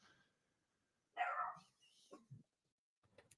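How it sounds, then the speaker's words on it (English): A dog gives a single loud bark near the middle, followed by a couple of softer yips or whimpers, against an otherwise quiet background. "The dog is barking."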